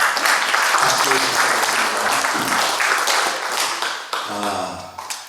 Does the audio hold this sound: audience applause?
yes